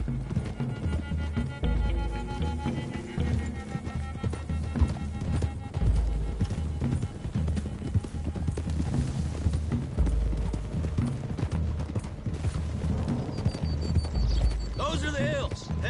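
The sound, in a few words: horses galloping, video game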